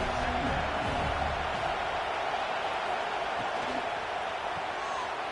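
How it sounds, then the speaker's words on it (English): A stadium crowd roars steadily in a college football video game with Vanderbilt playing at Tennessee, a dense, loud wash of cheering that holds at an even level throughout, without a clear break. "This crowd, full throat, spreading the eardrums and letting them know it's going to be a long day."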